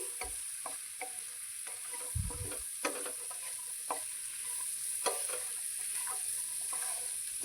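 Boiled pigeon peas frying in oil for guggillu, a soft continuous sizzle broken by scattered crackles and light spoon scrapes, with a brief low knock of the pan near the middle; close and gentle, without talking.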